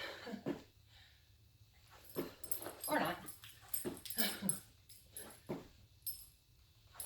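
A tired dog already worn out from a four-mile morning run whimpers and yips in short bursts between heavy panting breaths, close by and fairly quiet, with a brief spoken comment.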